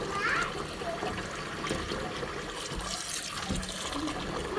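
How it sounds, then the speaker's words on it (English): Plain water trickles and splashes as a scarf made from dog hair is rinsed by hand, a soft continuous wash with small bursts of dribbling, close by and faint, with a faint voice in the background. "It's just water, because we're rinsing."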